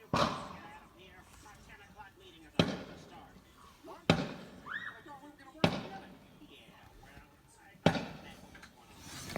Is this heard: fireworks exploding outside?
yes